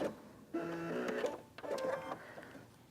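Sewing machine fitted with a walking foot stitches quilting in short mechanical bursts, a brief run, a pause, then another run, fairly close and steady with no talk.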